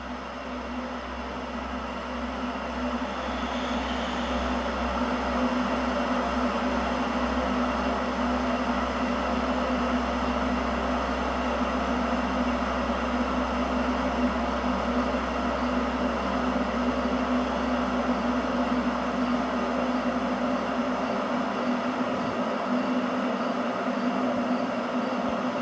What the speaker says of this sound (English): just let yourself listen to the kettle